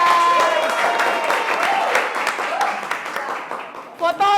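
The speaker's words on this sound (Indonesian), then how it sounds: "tepuk tangan buat kelompok kita" A group applauds at a campus class session, a dense patter of clapping mixed with chatter and voices, fading slightly before a person talks at the end.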